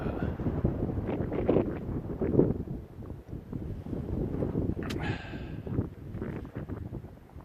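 Gusty breeze buffets the microphone on a hiking trail in Frontenac Provincial Park on a warm April day, a continuous rough rumble that swells and eases, with a brief rustle near the end.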